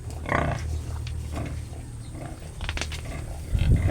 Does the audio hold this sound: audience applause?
no